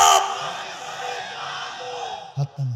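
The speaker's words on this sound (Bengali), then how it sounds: "জোরে একটা তাকবীর দেন তো" A large crowd at an Islamic religious gathering in Bangladesh shouts a loud takbir chant, a massed roar of voices that swells at the start, holds, then returns in short bursts near the end.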